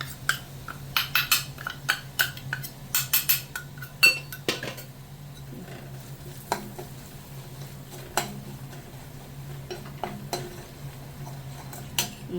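Powdered ginger fries in coconut oil in a metal pan while a spoon stirs it, giving irregular bursts of sharp scraping clicks over a faint, low sizzle.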